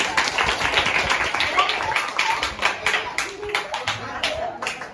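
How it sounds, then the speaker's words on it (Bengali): A group of children clap their hands at an education charity event, with steady, overlapping claps running the whole time and a faint murmur of voices underneath. "সত্যি জন্য হাততালি দিয়ে দাও"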